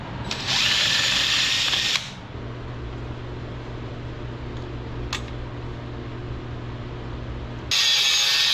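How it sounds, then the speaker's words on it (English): Power drill enlarging bolt holes in a metal mount for an APEX 5500 Harbor Freight winch on a Polaris RZR 1000XP, two loud steady bursts of drilling separated by a quieter mechanical hum, close to the microphone. "I'm going to go ahead and drill it out and grind this hole bigger"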